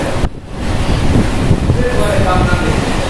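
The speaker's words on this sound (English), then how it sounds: "Feel the breeze." Sea breeze at Cape Coast Castle on the Ghana coast, a loud continuous wind rush buffeting the microphone with a steady roar of surf beneath it.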